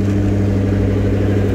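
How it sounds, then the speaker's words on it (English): Ford Bronco Raptor engine running, a loud, steady low exhaust rumble heard close up with no talk over it. "Actually, has a pretty good exhaust note."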